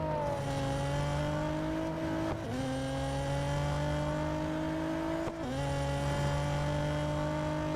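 A race car in Real Racing 3 holds a steady engine drone with faint tyre-skid noise, and two brief dips where the engine pitch drops and recovers, with no voices.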